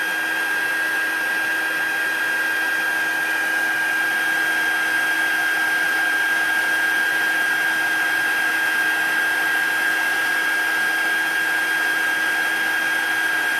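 Embossing heat gun blowing steadily over embossing powder as it melts on a card, a continuous close hair-dryer-like whoosh with a constant high whine, uninterrupted for the whole stretch with no talking.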